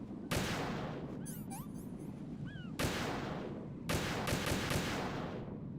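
Gunfire in the Metal Gear Solid 2 video game: three loud, sharp shots spaced a second or more apart, each trailing a long echoing decay, with chirpy electronic game tones between the first two.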